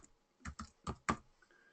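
A few separate keystrokes on a computer keyboard, four or five distinct taps in a short burst, close and clear, then a faint tone and near silence.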